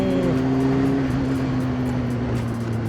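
A Kawasaki ZX9R motorcycle engine revs at moderate, tame throttle. The loud, close engine drone holds steady and sinks slowly in pitch, with no voices over it.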